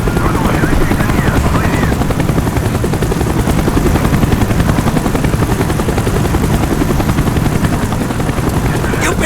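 A helicopter's rotor in Call of Duty: Black Ops thumps in a continuous, loud, rapid beat close overhead, steady throughout, with faint voices beneath.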